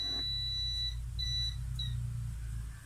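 A social distancing alert pole beeps three times, short high tones spaced about half a second apart, fairly faint over a steady low hum.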